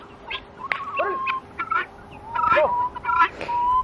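Chickens cluck and squawk in short, scattered calls at close range, with a rooster-like crow rising among them.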